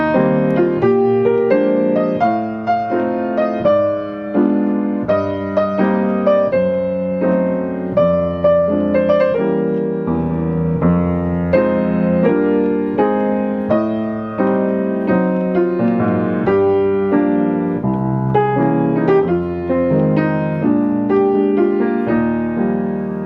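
Jazz piano playing block chords with added left-hand bass notes for a stride feel, steady rhythmic chords and low notes alternating, clear and solo without talk.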